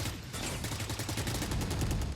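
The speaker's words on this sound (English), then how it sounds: "that's a lot of gunshots from Fnatic" Gunfire in the tactical shooter Valorant during a professional esports match, a dense rapid fusillade of shots rattling continuously at moderate loudness with no commentary over it.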